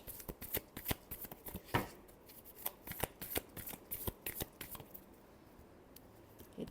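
Tarot cards are shuffled up close and softly, a run of quick riffling snaps and papery flutters in uneven bursts, with no talking over it.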